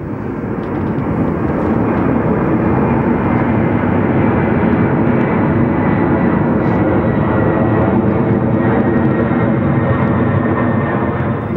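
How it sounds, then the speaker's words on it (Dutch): A loud aircraft passes low over homes near Schiphol's Polderbaan runway, a dense continuous roar filling the whole stretch without letting up and with no speech. "er komt weer zo'n herrieschopper aan"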